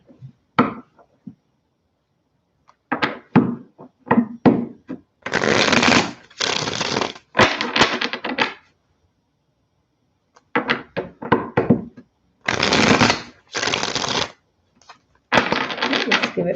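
A deck of cards being shuffled in repeated bursts of riffling and flicking, with short gaps between passes, close and fairly loud.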